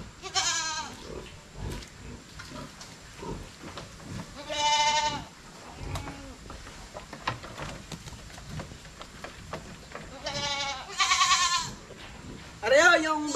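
A goat bleats several times in loud, wavering cries spaced a few seconds apart, with people talking and rustling nearby between the calls.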